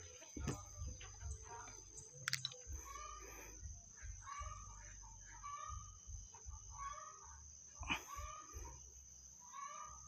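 Chickens cluck and chatter continuously, with a rooster crowing now and then and a few sharp knocks, at moderate distance.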